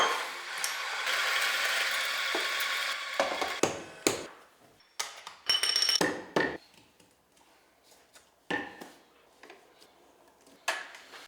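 A coffee grinder is adjusted to a finer setting, a run of near ratcheting clicks, taps and mechanical knocks in irregular bursts after a few seconds of whirring hiss.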